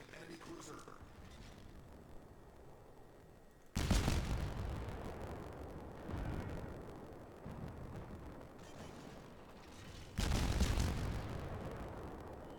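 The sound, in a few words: cruiser shells hitting enemy ship in World of Warships video game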